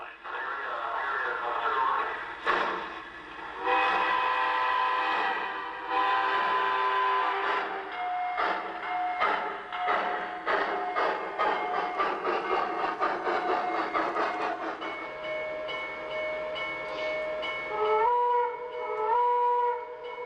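A Lionel J1A model train running on track, a steady mechanical rumble with a sustained whistle-like tone near the end, amid other layered tonal sounds.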